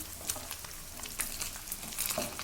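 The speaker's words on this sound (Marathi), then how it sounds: "एकदम क्रंची पनीर इथे तळून झालेली आहेत आपण आता ते काढ एका प्लेटमध्ये काढून घेतो" Crispy paneer cubes fry in hot oil, giving a faint, soft sizzle with scattered small crackles and pops, heard alone without talk.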